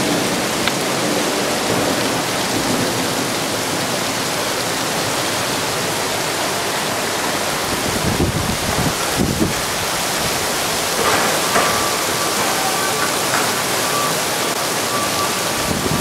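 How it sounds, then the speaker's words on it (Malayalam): Heavy rain pours down in Dubai as a loud, dense, continuous hiss that stays steady for the full length, with no one speaking. "ദുബായിലെ മഴ കണ്ടോ മക്കളെ?"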